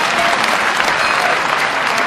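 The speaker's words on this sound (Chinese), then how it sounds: "我们再次用热情的掌声，请出他的黄金搭档李胜素上场" A concert audience at a Peking opera gala claps warmly to welcome the performer Li Shengsu onstage: dense, steady applause that fills the hall without a break.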